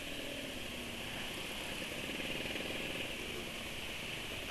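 A motorcycle engine running on Castrol oil, near 1000 km with fuel dilution, idles at low RPM with a steady, fast rattling putter, heard alone and fairly quiet.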